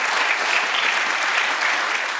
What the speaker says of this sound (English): So round of applause for SCORE's and the way they use their voice.